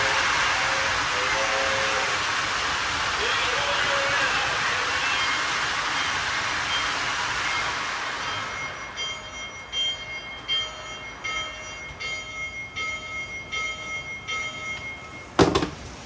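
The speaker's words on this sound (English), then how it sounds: "This Lionel train is freaking awesome" A Lionel model electric train in a garden rumbles along its track, loud and steady at first, then quieter with rhythmic clicking over rail joints and a sharp clack near the end.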